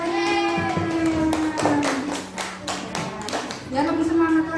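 Students in an Indonesian school classroom clap in a rhythmic pattern. The sharp claps come in distinct bursts, with voices chanting and talking along throughout.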